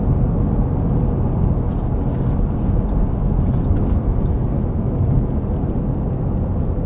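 A 2000 BMW M5 E39 cruising at about 70 mph and 2,400 rpm fills the cabin with a constant, loud low rumble of road and engine noise, with no talking.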